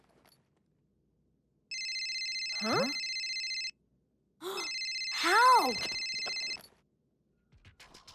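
A mobile phone ringing in a kids' cartoon, with two bursts of a steady electronic ring tone separated by a short pause, while cartoon voices speak over and between the rings.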